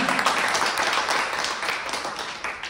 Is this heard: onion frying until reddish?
no